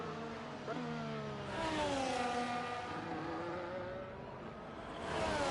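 A V6 Formula 1 car engine in a sim racing game at Monaco, a high revving whine rising and falling through gear changes as the car accelerates along the street circuit, fairly close and continuous.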